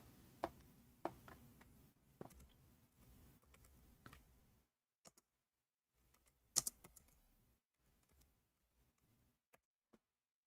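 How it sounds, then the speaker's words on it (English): Quick bursts of typing on a computer keyboard, soft clicky keystrokes in a dense run that thins into scattered isolated taps with silent pauses, quiet and close. "I will type in Arabic."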